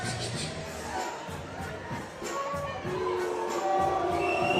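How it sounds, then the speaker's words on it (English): Mongolian fans in an arena crowd at a FIBA 3x3 Olympic Qualifying basketball game raise a swelling mass of boos and shouts that grows louder toward the end, with some chatter mixed in. "Ozawa hearing the boos from the Mongolian fans."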